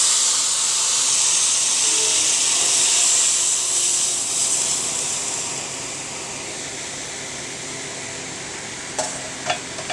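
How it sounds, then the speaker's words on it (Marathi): Gram-flour and buttermilk batter hits hot oil with crackling mustard seeds, producing a loud hissing sizzle that gradually softens, followed by a few brief clinks near the end, close up with no talking. "मोहरी चांगली तडतडली आहे त्यामध्ये ओतते।"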